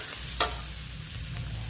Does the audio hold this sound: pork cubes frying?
yes